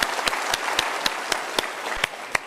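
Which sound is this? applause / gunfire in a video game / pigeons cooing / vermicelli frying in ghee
applause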